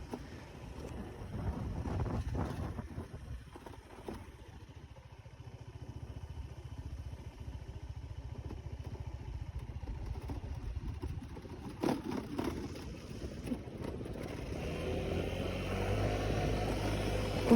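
Worn-clearance motorcycle engine running on a newly paved road, a steady low mechanical drone with wind buffeting over it and a rougher, louder stretch near the end.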